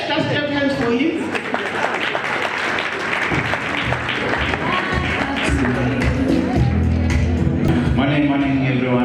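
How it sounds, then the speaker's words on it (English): An audience claps steadily for a speaker at a water utility's excellence award ceremony, a loud, dense patter sustained throughout with voices and cheers mixed in. "Let's just clap hands for him."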